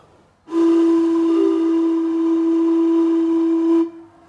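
A Thai vot bamboo wind instrument blown softly, giving one steady, breathy pipe tone that is held for about three seconds and then stops.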